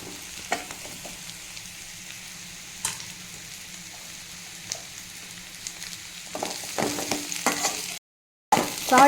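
Onion and yellow pumpkin pieces frying in a pan, a close steady sizzle broken by scraping stirs and clatter of a spoon, growing busier toward the end, with no talking.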